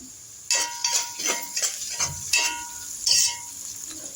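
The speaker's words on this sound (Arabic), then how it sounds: "هنديها تشويحه كمان" Chopped garlic sautés with onion in a pan, a gentle sizzle broken by a series of spoon scrapes and stirring clinks, close and fairly clear with no talking.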